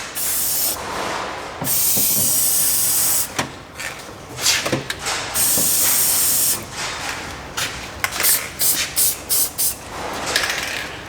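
Aerosol spray can hissing in repeated bursts over the fasteners of a hitch install on a 2009 Toyota Camry Hybrid, a few long sprays followed by many short quick blasts, close and loud.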